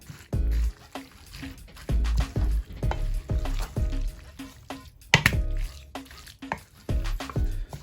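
Kimchi seasoning being stirred and mixed by hand in a bowl, a run of repeated wet, squelching strokes in steady rhythm, close and fairly loud, with no talking.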